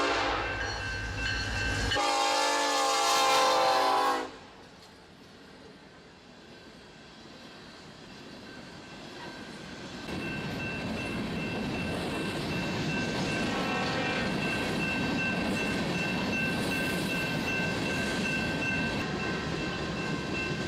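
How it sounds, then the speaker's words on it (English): Northbound TXU coal empties freight train passing on foot-level trackside, opening with a loud horn blast, then a steady rumbling roar of empty cars rolling by, building and continuing close. "Northbound TXU coal empties from Texas."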